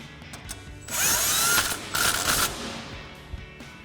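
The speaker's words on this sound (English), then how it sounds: "we'll again use our 10mm socket on our impact to go ahead and tighten this down" An impact wrench fitted with a 10mm socket tightens a bolt during a Toyota Tacoma suspension lift install, two close, loud, whirring rattling bursts with a short gap between them, followed by a few light clicks.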